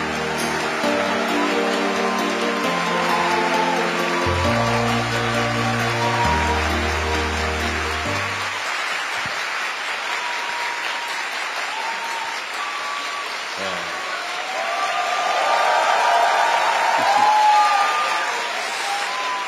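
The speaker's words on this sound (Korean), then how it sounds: "우리 대통령님 나오실 때 큰 박수로 환영해 주시기 바랍니다." Applause from an audience of newly hired government officials at a special lecture, rising loud after an opening stretch of music and sustained as a broad, continuous clatter of many hands welcoming the president to the stage.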